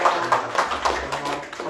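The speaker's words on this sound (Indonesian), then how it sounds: "Tepuk tangan dulu buat" Brief audience clapping at a youth festival creative talk in Sidoarjo, a short burst of uneven hand claps with distinct individual slaps, fairly close, with a voice faintly under it.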